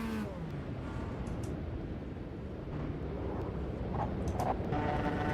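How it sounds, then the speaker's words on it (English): A Formula Inter open-wheel race car engine roars steadily at Imola in the Automobilista 2 racing game, a continuous loud drone with shifting pitch that swells slightly toward the end. "Racing in our Formula Inter at Imola"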